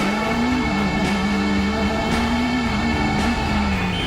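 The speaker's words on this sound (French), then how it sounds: "Walter Röhrl dans Burzet, ça roule, ça ronfle, c'est beau et bon à la fois, regardons et écoutons." Walter Röhrl's rally car drives the Burzet stage, its engine a loud, sustained drone holding a fairly even pitch with slight rises and dips, alone without talk.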